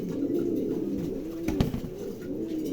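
Pigeons, three pairs kept for sale, coo continuously at close range, layered low throaty warbles overlapping with a brief clatter in the middle.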